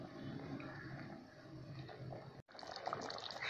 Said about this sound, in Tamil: இப்போ கொதிச்சிக்கிட்டுருக்கு.